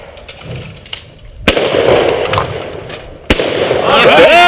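Two loud shotgun blasts on a sporting clays course, a few seconds apart, each with a sharp crack and a short outdoor tail, over background chatter and movement.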